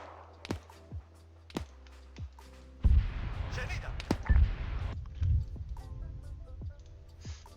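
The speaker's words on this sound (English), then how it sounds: "I could hear those explosions from here" Battlefield explosions in the Arma 3 video game sound as a string of sharp distant cracks, then a heavier rumbling blast with lingering booms and scattered pops, under a faint low hum.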